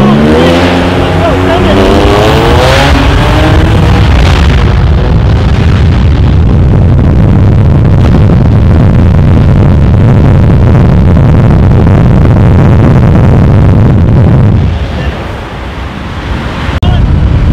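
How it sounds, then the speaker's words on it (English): A tuned BMW 335i with an N54 engine and Pure Turbos drag racing a tuned BMW M4 Competition, loud sustained engine roar as the cars accelerate, fading near the end. "going to go 335i versus M4"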